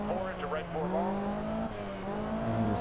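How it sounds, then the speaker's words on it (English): Abarth 131 rally car from Seb Loeb Rally Evo on a Monte Carlo stage, its Italian engine droning steadily close up, the pitch climbing and dipping through gear changes and revs across the run. "Really trying to get that Italian engine to give us all 236 horsepower."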